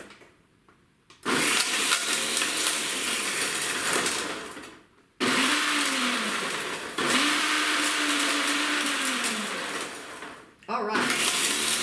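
Kitchen blender with its blade running at full speed, loud and harsh, in three long bursts with brief stops between, pitch dipping and recovering under load while valerian root is ground.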